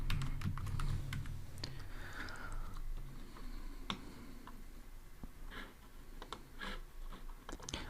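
Typing code on a computer keyboard, quiet irregular clicks and taps of keys with a few sharper strokes, close and alone with no speech.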